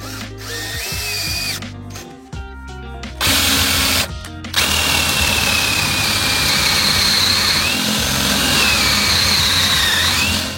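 A power drill bores holes for screws through long timbers of a wooden log-store frame, whirring in a few short bursts and then a long, steady, loud run with no talk.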